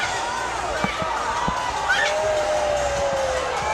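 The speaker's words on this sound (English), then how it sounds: "just listen to this crowd" A boxing crowd at DMG Night of Champions III roars after Terrible Terry Washington knocks out Nelvis Rodriguez, a broad swell of cheering and whoops with a few dull thuds and a rising whistle, and an announcer talking over the noise.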